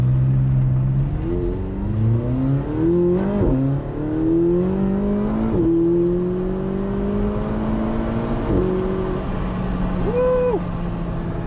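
A McLaren 570S Spider accelerates hard up through several gears, its engine note climbing in rising sweeps and dropping at each shift, loud and close from inside the car.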